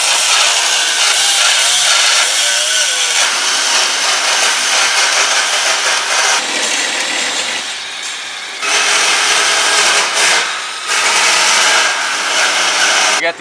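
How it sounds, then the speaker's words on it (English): Power tool grinding away excess metal between drilled holes on a Mercedes ML55 AMG off-road build, a loud continuous rasping roar that surges and drops in level, with brief pauses. "now he's kind of just removing the excess material in between"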